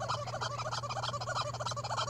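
A flock of turkeys gobbles continuously, their rapid warbling calls overlapping loudly and close over a low steady hum, with no speech.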